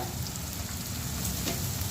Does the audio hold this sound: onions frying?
yes